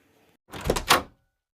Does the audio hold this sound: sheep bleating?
no